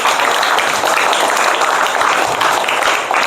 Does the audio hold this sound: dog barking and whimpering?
no